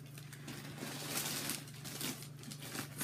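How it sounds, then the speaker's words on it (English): Stuffing paper crinkles and crumples as it is pulled from a hot pink nylon Dooney and Bourke medium satchel, giving a close, continuous rustling over a low steady hum. "Sorry if y'all don't like to hear the paper."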